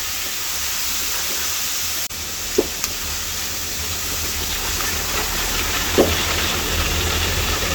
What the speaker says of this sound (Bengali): এই ডালটা আমি ভেজে নেব একটু হালকা করে।